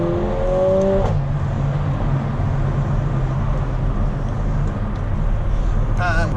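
A 2019 Mercedes A35 with a 2-litre engine revs from inside the cabin, a steady close drone rising and settling, with sharp upshift cracks and burbles near the end.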